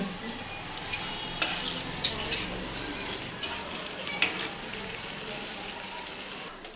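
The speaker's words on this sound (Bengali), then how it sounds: "না আগে ফুলকপি না, আগে মূলাই ভাজি" Radish slices fry in hot oil for radish chops, a soft continuous sizzle with occasional sharp clinks of a utensil against the pan, fairly quiet and close.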